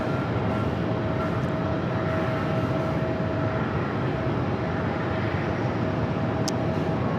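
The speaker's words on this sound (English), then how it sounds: "This next arrival is United Airlines 1640 coming in from Chicago on the" A United Airlines Airbus A321neo arriving from Chicago produces a steady, moderately loud broadband engine rumble with a faint constant whine, heard from a distance without any talk.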